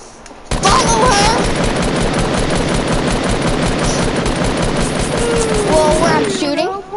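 Rapid bursts of automatic gunfire from a shooting video game fill the stretch almost continuously, loud and dense, with brief in-game sounds near the end.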